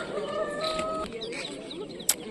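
Chickens at a poultry exhibition in Ovidiopol cluck and call softly nearby, with a brief sharp noise near the end, under faint background chatter.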